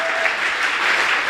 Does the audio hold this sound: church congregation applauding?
yes